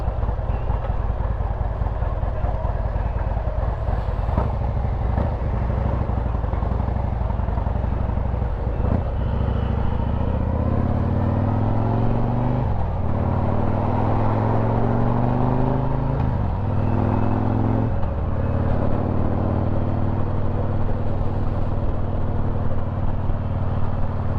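A brand-new Harley-Davidson Road Glide motorcycle cruising along, its engine a steady loud rumble throughout with several rising and falling pitch sweeps as it shifts and changes speed.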